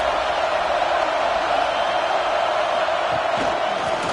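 Stadium crowd at an American football game roaring behind the defense on a big third down, a dense, steady wall of cheering noise throughout with no clear individual voices.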